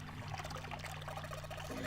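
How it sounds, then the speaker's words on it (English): A faucet in a video game runs steadily, a continuous close pour of water splashing into a basin under a constant low hum. "Hey, water's filling up."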